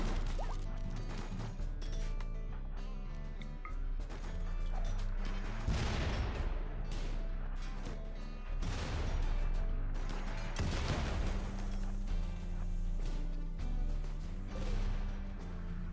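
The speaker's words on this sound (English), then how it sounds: "I think I got like 6 mortars." Repeated mortar shell impacts and blasts boom out in RimWorld over a steady game music bed, with several heavy crashing explosions spaced a few seconds apart.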